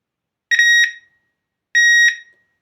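A Garrett Super Wand handheld metal detector sounds two loud, shrill electronic alarm tones, each about half a second long and separated by silence, as it detects a mobile phone.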